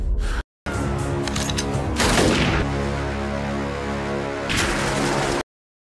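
Rapid bursts of gunfire from a war sniper film, a dense rattling barrage that swells loudly near the middle and again toward the end, broken by a brief dropout at the start.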